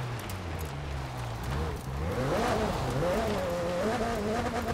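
McLaren 720S Spider engine in Forza Horizon 4, revving up through a rising pitch sweep and holding high revs, loud and continuous with faint tire and track noise underneath.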